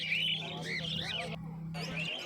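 Caged Bengalese finches at a bustling outdoor pet market in Uluberia chirp in quick, close twittering bursts, with a steady low hum beneath and a person talking over them.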